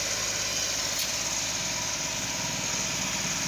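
A Suzuki DA63T multicab engine idles close by with a steady, buzzing mechanical drone that stays loud and constant throughout, with no voices over it.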